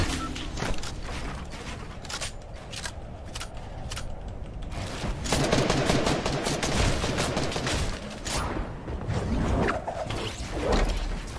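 Gunfire in the video game Fortnite: rapid bursts of shots crackle sharply over a busy mix of in-game effects, some shots clustered tightly, with players talking quietly in between.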